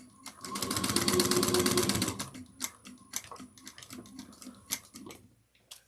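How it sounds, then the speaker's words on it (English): A sewing machine back stitches on a bag, with a close, rapid whirring burst of about two seconds, followed by scattered clicks and handling taps as the fabric is adjusted. "I'm going to back stitch."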